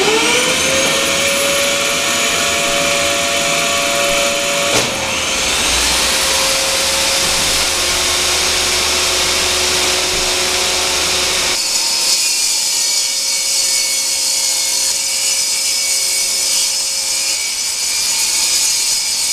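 A router table fitted with a custom router bit cuts wood with a loud, steady high-pitched whine. Partway through, the pitch shifts as the workpiece feeds through, and the motor keeps running throughout with no talking.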